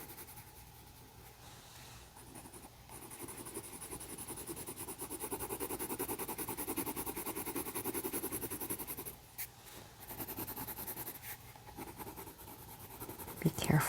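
Steady close scratching of a yellow colored pencil shading a pumpkin drawing on paper, a soft continuous rasp that pauses briefly and resumes, with faint room hum underneath.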